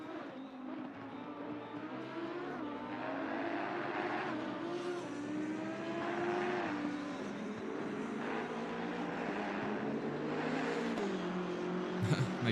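A BMW M6 race car engine drones at Imola in Assetto Corsa Competizione, a deep throaty tone rising and falling through gear changes, steady and moderately quiet throughout.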